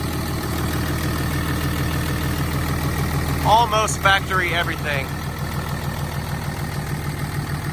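A diesel engine of a 2007 Dodge 3500 pickup welding rig, with the EGR blocked off, idles steadily with a low, even rumble throughout, while someone speaks briefly partway through.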